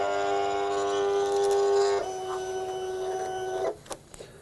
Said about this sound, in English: I'm going to feed the material through the back of the machine so I can utilize the cross cutter that's built into the Cameo